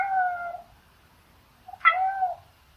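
A domestic cat meows twice, close and clear, each call rising then falling, separated by about a second of near silence.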